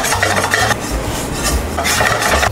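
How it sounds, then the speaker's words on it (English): Breadcrumbs seasoned with salt and pepper are stirred while toasting in a pan, a steady rough scraping and rasping that swells and fades in repeated strokes, close and fairly loud with a low rumble underneath. "mix that all together. Toast them until they are golden"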